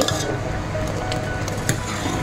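Milk boiling in a pan gives a steady, close bubbling hiss with a few faint clinks throughout, and no voices.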